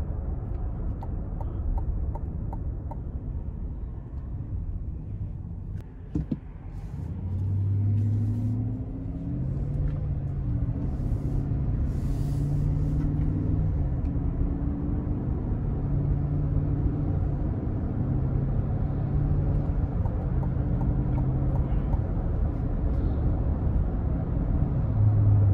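Low, steady engine rumble from a 2022 GMC Yukon XL SLT with a 5.3-liter engine while driving, heard from inside the cabin, with a smooth hum and mild rises in pitch as it accelerates.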